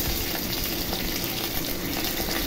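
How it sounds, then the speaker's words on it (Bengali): Hot oil sizzling steadily around dried red chili pieces, a bay leaf and cumin seeds as a tempering fries, a dense continuous crackle heard close and alone. "এখন এই ফোড়ন আমি ভালো করে ভেজে নেব"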